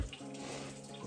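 Water from a hillside spring on a rural farm near the Forqueta River pours steadily into a trough, a continuous close splashing rush with no pauses.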